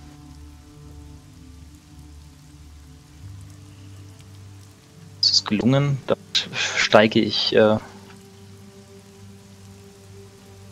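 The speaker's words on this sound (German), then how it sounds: "der Regen peitscht dir ins Gesicht" A steady, low rain sound effect plays as background ambience during a German tabletop role-playing session of Das Schwarze Auge. It stays soft and continuous under a brief stretch of a man's speech in the middle.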